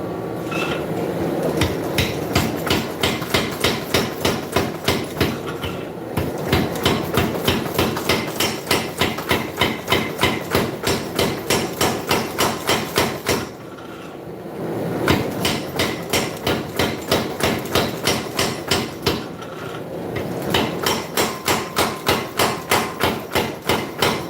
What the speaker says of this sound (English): Here we go, back to the hammer.